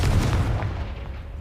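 A Confringo blasting spell goes off in the Hogwarts Legacy video game, a loud booming blast with heavy low rumble that fades over about a second and a half, with no voices heard.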